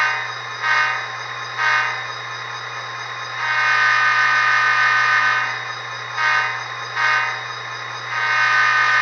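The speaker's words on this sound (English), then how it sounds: "Here's a short horn. The short horn responds a little faster" An HO scale Intermountain SD40-2W CN model locomotive's sound system gives several short horn toots and longer blasts over a constant low hum, close and alone.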